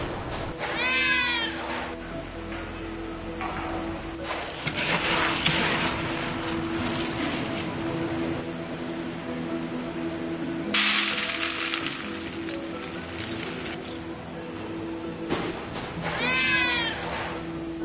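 Street cats meowing at a shelter for sick strays, several repeated meows at moderate distance with steady background noise between calls.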